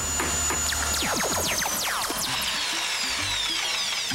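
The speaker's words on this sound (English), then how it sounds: "Re-drill. Boring. Boring holes." A power drill whines and bores steadily through a skateboard deck, its pitch sweeping up and down as the bit works through the wood, loud and close, with no talking.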